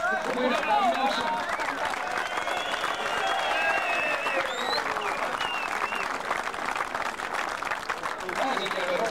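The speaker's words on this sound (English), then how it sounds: "round of applause for the loser, please" A boxing crowd at an unlicensed fight applauds and cheers after the loser is announced, a dense roar of clapping with whistles and shouted voices rising through it, steady and loud throughout.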